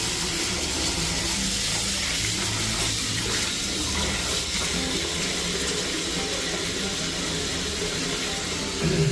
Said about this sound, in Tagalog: Dagdagan natin ang tubig guys.